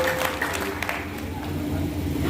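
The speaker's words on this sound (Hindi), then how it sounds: "जोरदार तालियों के साथ स्वागत करें सभी लोग" Crowd applause welcomes a guest at a Bahujan Samaj Party political rally in Azamgarh, moderate clapping spread out over a crowd with a voice briefly heard at the start.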